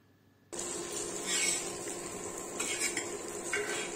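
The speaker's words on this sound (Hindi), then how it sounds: "तेल डाल के फिर इसे हम अलट पलट करके अच्छे से फ्राई कर लेंगे।" Eggplant slices fry in oil on a flat tawa as they are turned over, with steady sizzling and several metallic scrapes and clinks of a spatula against the pan.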